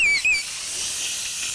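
A SpillStop alarm whistle on an air-operated double diaphragm pump gives a brief, loud, high-pitched shriek that falls away into a continuous steady hiss of air exhaust.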